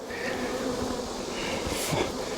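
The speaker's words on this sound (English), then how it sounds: "These bees are not happy," Agitated honey bees swarm around an open hive, a dense, steady buzzing that stays loud and close throughout with no voices over it.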